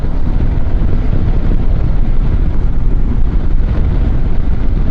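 A Benelli motorcycle on the move gives a loud, continuous low rumble mixed with heavy wind buffeting against the microphone, steady throughout with no pauses.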